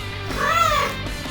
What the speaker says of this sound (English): It was the cat from before.